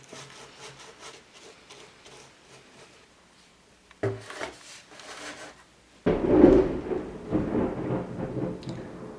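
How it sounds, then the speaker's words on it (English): A serious thunderstorm outdoors: quiet rumbling at first, then a sharp crack and a loud rolling burst of thunder that stays heavy and sustained to the end, with no talking over it. "It's a serious storm out there."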